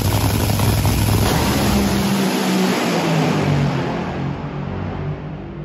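A Top Fuel dragster engine roars loud and close, a dense, harsh blast that holds for several seconds and then eases slightly.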